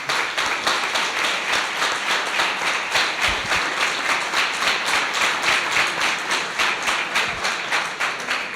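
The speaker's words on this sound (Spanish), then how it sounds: "Un aplauso para todos ellos," Audience applause at a wine tasting event, many hands clapping in a brisk, roughly rhythmic pattern that holds steady and loud from start to finish, with no talking over it.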